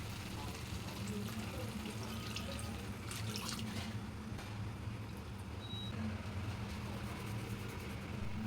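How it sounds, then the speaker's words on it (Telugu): About two glasses of water pour into a chicken gravy curry in a pan, making a steady, fairly soft splashing rush that runs throughout over low background hum. "నేను ఇక్కడ 2 గ్లాసెస్ వరకు వాటర్ని యాడ్ చేస్తున్నాను"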